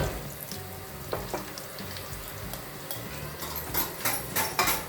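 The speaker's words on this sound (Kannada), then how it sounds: "ಕರಿಬೇವನ್ನ ಒಗ್ಗರಣೆಗೆ ನಾನು ಹಾಕ್ಕೊಳ್ತಿದ್ದೀನಿ." Curry leaves and garlic are dropped into hot tempering oil for a Karnataka-style palak curry and sizzle steadily up close, with crackling pops that grow livelier toward the end.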